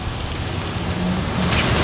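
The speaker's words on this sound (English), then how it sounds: "The wind and rain has started to pick up here." Wind and rain of Hurricane Irma at Clewiston, Florida, a steady broadband rush of rain and gusting wind with no voices, holding at a fairly loud, even level that swells slightly toward the end.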